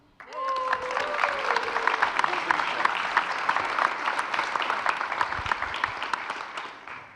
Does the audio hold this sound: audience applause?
yes